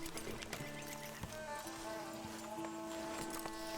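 Horse hooves clip-clop in Red Dead Redemption 2, giving a steady rhythmic series of fairly close, soft thuds under game music and faint background voices.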